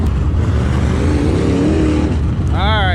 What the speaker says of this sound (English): Got a car on the back stretch here.